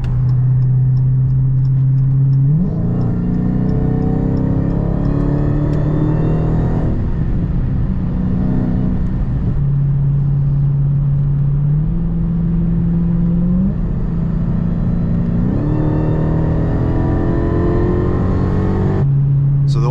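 A Dodge Hellcat on badly worn tires roars close up and loud, its engine note climbing and then stepping down repeatedly as it pulls through several gear changes on a road.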